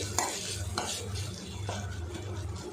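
Baby corn masala is stirred and sautéed in a pan over a low flame, soft continuous sizzling with a few spatula scrapes against the pan at a slow, irregular pace, nobody speaking.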